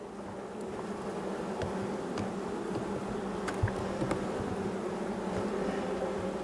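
Honeybees buzz at a hive of a weak colony after autumn feeding and powdering against varroa, a dense, continuous hum filling the whole stretch at steady loudness, close by and uninterrupted.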